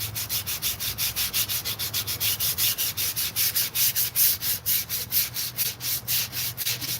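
Brake drum shoes are sanded by hand with sandpaper, a rapid rhythmic scratching of back-and-forth strokes, close and steady with no voices.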